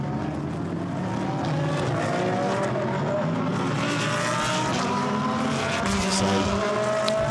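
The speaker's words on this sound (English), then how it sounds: "Cars now released to the green flag lap." GT race cars of the Blancpain GT Sports Club at Paul Ricard pull away on the green flag lap, a dense, loud engine roar of many cars revving and accelerating together throughout, with faint commentary beneath.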